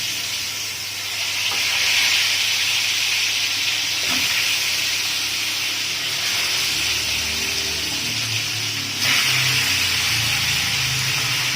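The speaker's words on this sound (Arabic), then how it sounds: "اول حاجة انزل بقطع الفراخ في شوية زيت" Chicken pieces frying in very hot oil on a gas stove, giving a steady, loud broadband sizzle and hiss that holds throughout with faint low rumble beneath, no voices.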